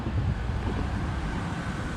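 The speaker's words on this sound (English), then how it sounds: "but it's also very windy" Strong wind roars and buffets the microphone without a break, a dense low rumble with no voices.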